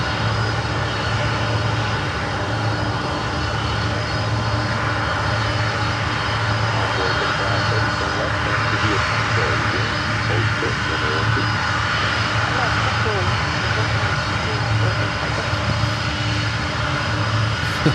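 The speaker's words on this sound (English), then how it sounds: "The sound is absolutely fantastic. The CF6s, 4 of them." A Boeing 747 cargo jet with four CF6 engines roars steadily at close range, a loud continuous broadband rumble and whine that holds for the whole span without breaks.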